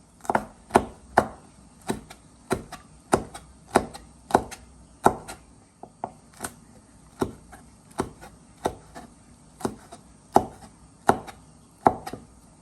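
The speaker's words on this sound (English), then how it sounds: "Now you just want to just chop these like this, just by bringing it on top of each other" Steady rhythmic knife chops on a cutting board, about two per second, close and crisp with no talking.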